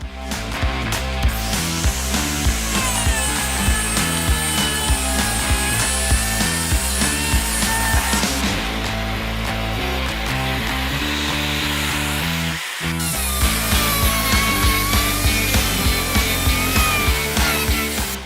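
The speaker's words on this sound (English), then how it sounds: "We just use a 5-inch cutoff wheel" A 5-inch cutoff wheel grinds through the front bumper of a 2016–2022 Toyota Tacoma, giving a loud, continuous high-pitched whine with rhythmic pulsing. It briefly stops near the middle, then resumes.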